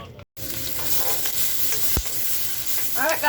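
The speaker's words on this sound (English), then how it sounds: "So I'm just sauteing up some of the already cut up peppers" Cut peppers sizzle and are stirred in a pan for chicken fajitas, a close, steady frying hiss broken by spatula scrapes and clicks, with a brief dropout near the start and a faint voice at the end.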